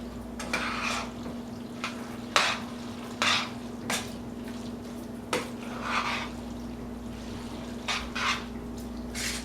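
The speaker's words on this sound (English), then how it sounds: "Incorporate your egg all the way through." Egg stirred into shredded cheese in a bowl: a series of soft, irregular scraping and sloshing strokes, close up, over a steady low electrical hum.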